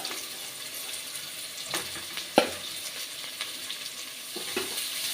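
Crushed garlic and cumin sautéing with softened onion in a pan, a low steady sizzle broken by several sharp stirring scrapes and clinks against the pan, with no voices.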